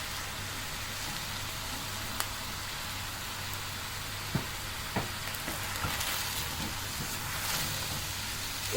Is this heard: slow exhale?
no